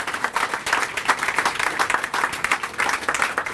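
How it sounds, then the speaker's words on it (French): An audience gives a warm round of applause to welcome a professor, with brisk and steady clapping that continues throughout. "on lui souhaite la bienvenue avec des applaudissements nourris"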